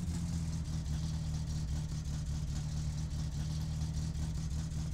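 A car engine idles steadily during carburettor tuning with the choke partly on in My Summer Car, a continuous low droning rumble running evenly throughout.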